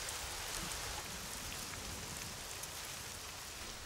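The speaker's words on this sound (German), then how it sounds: "Heftige Gewitterschauer überfordern meist die Aufnahmefähigkeit der Böden." Heavy thunderstorm rain shower pouring down outdoors as a steady, dense, even hiss of drops on the ground, with no voices.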